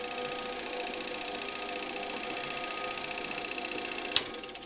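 A motor from an Electrolux Z325 vacuum cleaner, around 1977, runs steadily at low speed and reduced voltage, giving a faint, even whir with a brief click near the end.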